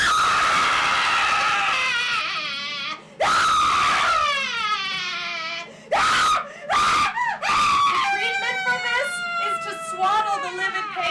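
A baby screams in rage with long, loud, shrill wails close up, broken by brief gasping pauses and repeated in harsh bursts.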